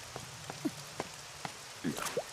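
Cartoon rain falls as a few scattered drips, with soft taps spaced irregularly and a couple of small bubbly plinks, quiet and sparse with no talk.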